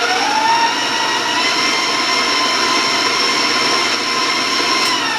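Electric mixer beating applesauce spice cake batter until smooth, a steady high whirring motor drone with harmonic whine, loud and continuous throughout with no talking.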